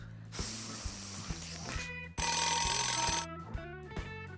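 An alarm clock rings in a house, its harsh electronic tone pulsing in repeated loud bursts, with a brief gap before a brighter, sustained shrill ring, then fading beeps.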